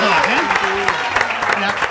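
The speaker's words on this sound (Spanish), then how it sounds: "Si ustedes le van a aplaudir, de verdad, apláudenle con ganas" An audience applauds after a card magic trick, dense clapping filling the room while voices talk and call out over it.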